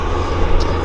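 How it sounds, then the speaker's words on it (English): A helicopter passing over Vancouver airport, a steady broadband rotor and engine roar that stays loud and constant throughout the short moment, with no voices. "Oh, hang on, we got a helicopter here."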